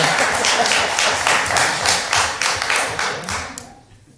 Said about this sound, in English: I'm clapping for her.